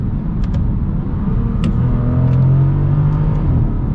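A Bentley Continental Supersports accelerating from inside the cabin, a loud steady engine drone whose pitch climbs and briefly steps during quick gear shifts, with faint clicks over the rumble.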